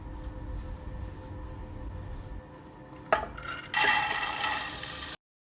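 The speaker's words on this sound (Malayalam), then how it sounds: "നെയ്യ് ചൂടായതിന് ശേഷം നമ്മൾ ഈ കടലപ്പരിപ്പ് ഇട്ട് നന്നായിട്ടൊന്ന് റോസ്റ്റാക്കി എടുക്കാം" Metal scraping and clatter of a spoon stirring in a pan, then a loud burst of hot sizzling that holds steady before cutting off.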